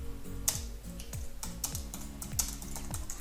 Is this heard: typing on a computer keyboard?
yes